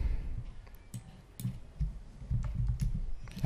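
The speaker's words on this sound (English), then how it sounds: "So if you type again" Keys on a computer keyboard clatter in uneven bursts of soft clicks, close and moderately loud, with short pauses between groups of strokes.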